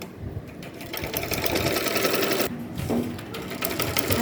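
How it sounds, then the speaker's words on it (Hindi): Sewing machine running steadily while stitching fabric for a nightie yoke, a continuous whirring hum lasting throughout with a brief slowdown midway, close and moderately loud. "अब यहाँ से आधा इंच लेके सिलते चले जाएंगे।"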